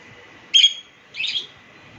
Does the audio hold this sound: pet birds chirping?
yes